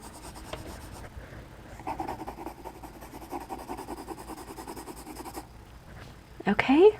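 Colored pencil scratches steadily across paper in continuous fine strokes while orange and yellow layers are laid down, close and soft, followed by a brief sharper rustle at the end.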